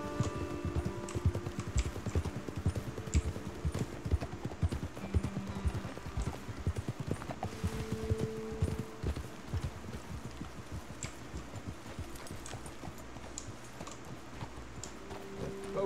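Horses clip-clop steadily on a trail in Red Dead Redemption 2, their hoofbeats forming a continuous, fairly close rhythmic patter under a quiet outdoor ambience, with faint snorts and sparse game sounds.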